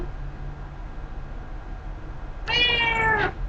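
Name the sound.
pet cat meowing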